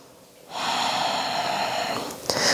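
A long, forceful exhale during a yoga flow, a broad breathy rush lasting about a second and a half, close and loud, ending with a short sharp intake.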